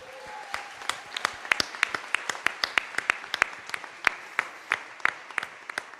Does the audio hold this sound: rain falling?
no